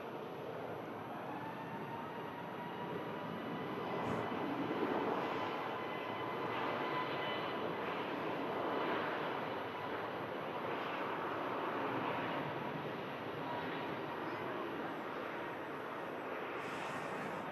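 A jet airliner taxis near the exit of an airport runway, its engine roar and high whine steady and moderately distant, a light wind rumbling across the microphone and no talking.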